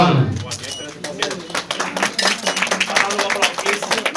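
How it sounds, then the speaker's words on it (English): An audience at a county health celebration with the governor breaks into a round of applause after a countdown, irregular clapping building in and continuing at moderate loudness, with some voices over it. "Round of applause."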